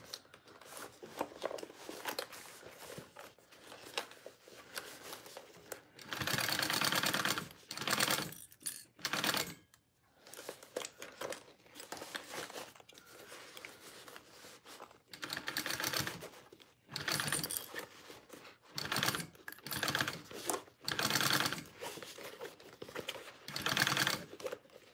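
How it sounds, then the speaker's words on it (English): A sewing machine bastes two layers of fabric together, running in rapid mechanical bursts of stitching separated by brief pauses, close and clear with no talking. "I'm just basting these two layers together"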